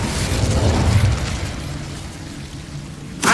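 A fiery Incendio spell in Hogwarts Legacy gives a rushing, crackling burst that fades out, then a sharp new blast hits at the end.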